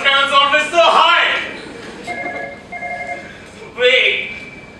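A hotel telephone is dialed onstage during a one-act play, with a few short electronic tones sounding between bursts of actors' speech that partly masks them.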